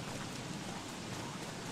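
Rain falling in the video game Don't Starve during winter, a dense steady hiss of rainfall, even and fairly loud throughout with no talking.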